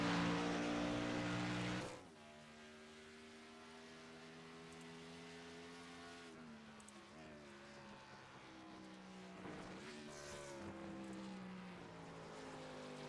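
Race car engines in iRacing drone steadily at Watkins Glen during qualifying, a continuous buzzing whine with slight pitch shifts as cars pass, loud for the first two seconds then lower and sustained.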